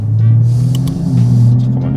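Toyota Supra engine holding a steady low drone as a downshift fails to engage, with a brief rise in revs midway and continuous road rumble from inside the cabin.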